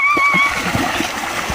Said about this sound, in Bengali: নদীতে গোসল করবো।